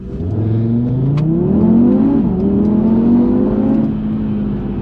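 A 2019 Audi TT RS five-cylinder engine revs hard and climbs in pitch, dipping briefly before rising again into a throaty, sustained roar close by.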